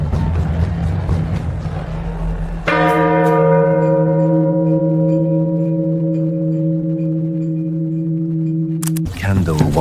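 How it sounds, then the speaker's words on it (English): A single loud strike of a market church bell rings out over a busy, noisy crowd, its bright brass tone decaying slowly for several seconds before being cut off by renewed bustle. "The market bell swings, blurred brass arc behind a wall of moving bodies."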